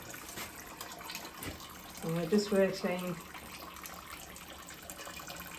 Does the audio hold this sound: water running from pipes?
yes